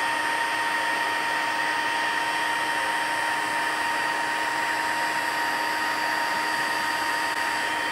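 Heat tool on setting 2 blows steadily while melting embossing powder on a stamped card, a constant whirring fan hiss with a faint tonal hum, close and unbroken, no talking.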